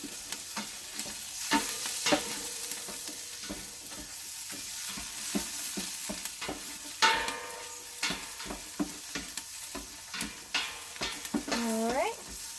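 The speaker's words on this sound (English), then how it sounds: "Kind of let that sizzle and take up the garlic." Garlic sizzles steadily in olive oil in a pan for a vegan bean chili, with a spoon scraping and stirring through it in irregular strokes and a few sharper clinks.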